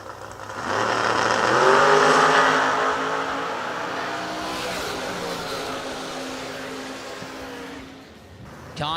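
Drag race cars launch and accelerate hard down the strip, a wagon driven by Dave Conley against Bill Webb's Oldsmobile, with loud rising engine roars that climb through the gears, hold steady, then fade toward the end.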